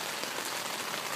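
Rain falls on a tent in dense, even patter, a close and continuous hiss of drops striking fabric with no voices.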